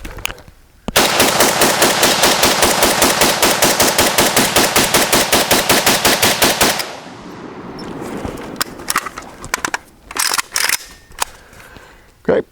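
An AK47 rifle fed from a ProMag magazine fires a long, rapid full-auto burst, loud and close with evenly spaced sharp reports, then stops. Scattered clicks and handling noises follow as the empty rifle is worked.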